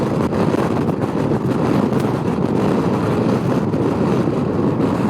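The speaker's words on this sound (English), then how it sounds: "Woo-hoo-hoo, windy." Loud, constant wind roar buffets the microphone of a rider on a moving motorcycle, a dense rushing blast that never lets up for the whole stretch.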